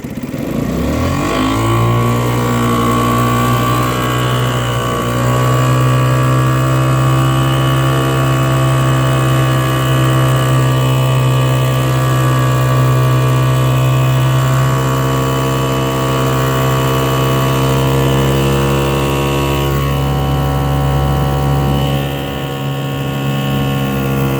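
A 1963 Gale Sea King 3hp single-cylinder outboard boat engine runs loud and close for the whole stretch, holding a steady, even drone after a quick start, with no talking.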